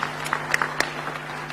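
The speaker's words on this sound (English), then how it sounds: "If you want to clap, you can clap." Sparse, scattered claps from an audience at a climate summit in a large hall, a few hands patting irregularly at moderate distance over a steady low hum.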